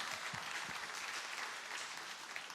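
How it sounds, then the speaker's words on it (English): A comedy show audience gives Victor another big round of applause, with sustained, even clapping from a crowd that stays strong throughout. "Give Victor one more big round of applause."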